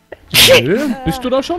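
A loud, close sneeze bursts out at the start, followed by people speaking German in a Minecraft Hunger Games session.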